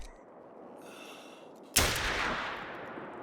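A single loud, sharp gunshot comes from a .243 hunting rifle in theHunter: Call of the Wild, breaking a quiet outdoor ambience of faint birdsong, followed by a long rolling echo that fades slowly.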